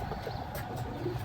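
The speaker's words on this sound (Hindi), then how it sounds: "ये हमारा मगर कबूतर है।" A Magar breed pigeon coos softly and low, a few murmuring notes set against a quiet background with faint outdoor hiss.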